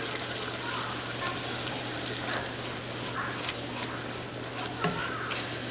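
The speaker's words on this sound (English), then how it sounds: "So let this sit here and simmer and keep adding some juice to it" Smothered pork chops simmering in a pan with added juice: a steady close sizzle and bubble that runs unbroken, with faint scrapes and clinks over the top.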